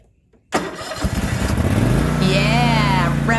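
A small gasoline engine, apparently garden equipment, sputters to life after near silence, then holds a loud steady roar whose pitch climbs as it revs up close by.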